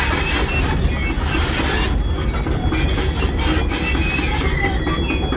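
Train wheels squeal steadily against dry, worn rails, a loud continuous screech over the low rumble of rolling railcars that holds for the whole stretch without a break.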